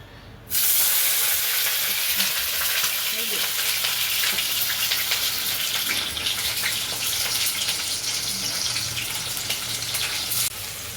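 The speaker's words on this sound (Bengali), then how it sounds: "তেলটা গরম হয়ে গেছে, এইবারে আমি এই উচ্ছেগুলো দিয়ে দেবো ভাজার জন্য" Small-cut bitter gourd pieces are dropped into hot oil, bursting into a loud, steady sizzle that holds for about ten seconds, with a softer fizz continuing at the end.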